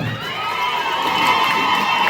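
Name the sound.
crowd clapping and cheering for God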